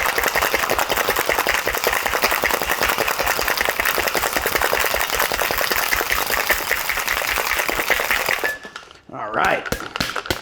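A cocktail is shaken hard with ice in a big tin shaker, a fast, dense rattle of cubes that runs loud and steady for several seconds before stopping, followed by a few clinks.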